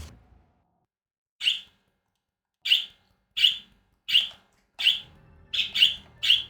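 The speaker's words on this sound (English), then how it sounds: "Listen to those birds. Don't they sound just so happy?" Bright, short bird chirps from the video game Wizard of Legend repeat at irregular intervals, clear and isolated against near silence, bunching closer together toward the end.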